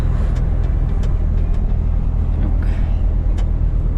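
Steady low engine and road-tyre rumble from a car driving along a road, continuous and fairly loud from inside the vehicle, with a few faint ticks and rattles over it.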